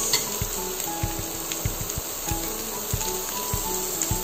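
Steak fries in a pan with garlic, giving a steady soft sizzle throughout with occasional light clinks of the pan or a utensil.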